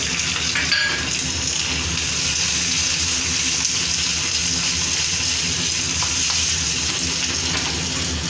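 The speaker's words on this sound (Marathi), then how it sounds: "छान अशी भाजी मिरची टाकून घेतली." Green chillies frying in oil with cumin and mustard seeds in a pan, a steady close crackling sizzle like light rain, continuous and loud with an occasional stir.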